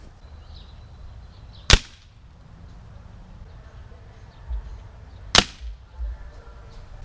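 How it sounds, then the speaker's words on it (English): Two sharp, loud cracks from a Crosman Optimus .22 caliber pellet rifle fire several seconds apart outdoors, each a brief snap over quiet background with faint thuds in between. "Took 5 shots to zero it in."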